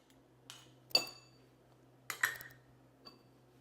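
Sour orange juice and olive oil are stirred in a bowl with a utensil, giving a few sparse, light clinks and scrapes against the bowl in a quiet room, with no voices.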